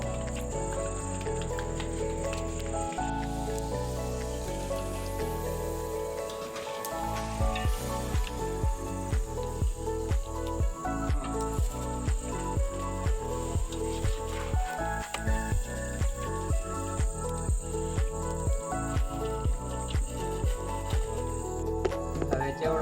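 Peanuts hitting hot oil while making vagharela mamra: a steady sizzle that breaks into rapid crackling pops, under music and occasional talk.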